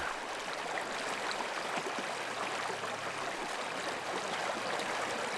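Broad, steady rushing of a shallow riffle on the Taehwa River, where the water runs fast over stones after a weir was removed; a continuous even wash with no talk.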